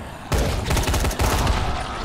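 Rapid automatic gunfire in the zombie survival video game Dying Light, loud, dense bursts of shots that start abruptly and continue with brief gaps, no talking.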